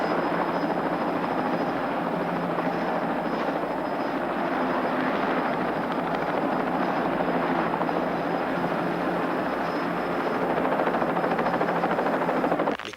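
A helicopter's rotor and engine drone steadily and loudly, a dense continuous roar that holds for the whole stretch without a break.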